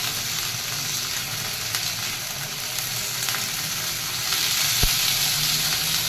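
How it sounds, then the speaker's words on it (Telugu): Ivy gourd (dondakaya) pieces fry in oil in a pan until reddish and crisp, giving a steady, dense sizzle that holds evenly throughout with no talking. "మనం దగ్గరుండి ఇలా వేయించుకోవచ్చు ఎర్రగా."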